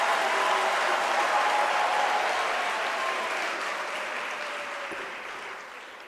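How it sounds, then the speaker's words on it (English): Sustained applause from a large graduation ceremony audience at the University of South Africa, dense and steady clapping that gradually thins and fades toward the end. "Can we give them an applause?"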